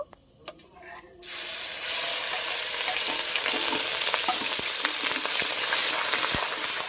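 After a few faint clicks and taps, onions drop into hot oil with bay leaf, cardamom and cloves, bursting into a loud, steady close sizzle with light scraping and crackles.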